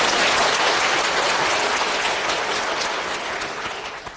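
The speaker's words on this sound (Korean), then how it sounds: "하나님께 감사의 영광의 박수를 힘차게 하고 합시다." A church congregation claps vigorously together, a loud, dense wash of applause that holds steady and then slowly thins out near the end, with no voices over it.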